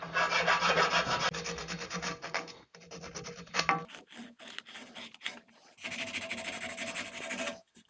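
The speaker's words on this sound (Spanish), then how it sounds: "Acabamos el otro lado dando lima, redondeando." A hand file rasps against a carbon fiber bicycle frame dropout being repaired and rounded off, close-up scraping strokes in uneven bursts with short pauses between them, and no talk.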